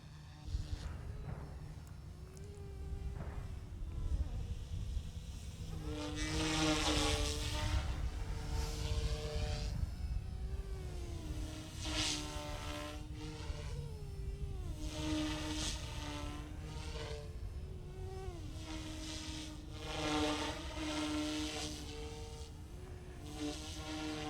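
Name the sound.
OMP M2 EVO MK2 small RC helicopter flying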